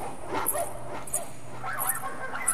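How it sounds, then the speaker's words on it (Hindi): Several dogs bark and yip in short bursts at mid distance, with scattered overlapping calls. "कुछ कुत्ते मनीष के पीछे देख के भौंकने लगते हैं।"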